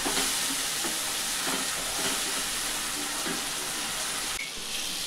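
Chopped tomato sautés in oil over a low flame, giving a dense, even sizzling hiss that holds steady throughout with faint stirring.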